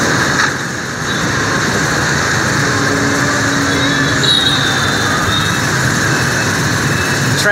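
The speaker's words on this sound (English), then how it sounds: "Traffic here, you know," Dense street traffic in Saigon, with trucks and motorbikes, makes a steady, loud engine roar and rumble that continues without pause, close by and unbroken.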